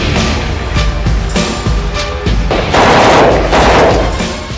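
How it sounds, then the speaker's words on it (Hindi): Rapid automatic fire from a Russian AK-203 assault rifle crackles in dense, loud bursts of closely spaced shots, growing heavier and more continuous toward the end. "इस हाईटेक ऑटोमेटिक असॉल्ट राइफल से बिजली की रफ्तार में दनादन निकलती गोलियां किसी के भी होश उड़ाने के लिए काफी हैं"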